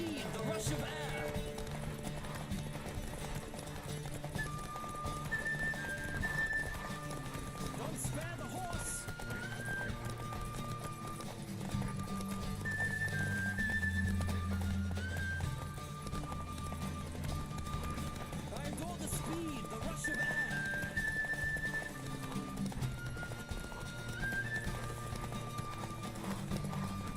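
A horse gallops in a race in The Witcher 3 video game, its hoofbeats running steadily under a game music score and talk throughout.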